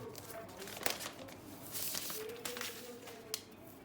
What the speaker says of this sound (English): So now let's unwrap it.